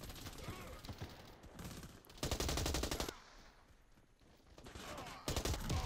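Bursts of automatic gunfire from the Warface shooter game, with loud rapid volleys near the start and again at the end around a quieter gap.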